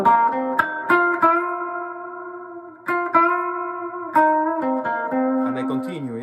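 An electric guitar with effects plays blues-rock phrases, picking a major third on the third string and bending it up a half step to the fourth, the notes ringing with echo and wavering pitch near the end.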